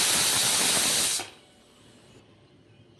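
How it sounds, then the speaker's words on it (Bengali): A pressure cooker vents steam after cooking peas for ghugni, a loud, close, broadband hiss that runs for about a second before cutting off abruptly to quiet room tone. "আর একটু গ্যাসটা বের করে দেবো যাতে মটরটা বেশি সিদ্ধ হয়ে না যায়"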